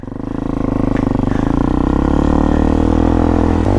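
A street legal dirt bike bought online idles steadily up close, its engine chugging in an even, throbbing rhythm with no talk over it.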